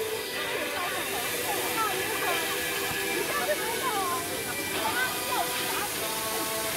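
A waterfall rushes at Emerald Valley in Mukumuyu, Taiwan, heard as a faint, steady hiss of falling water under people talking.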